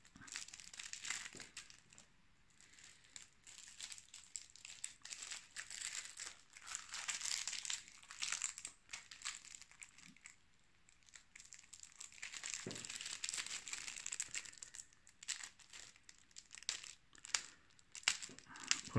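Someone tears open the plastic shrink-wrap on the second-edition Darkest Night board game by hand, giving close, irregular crinkling and crackling bursts with pauses in between and brief faint voice sounds.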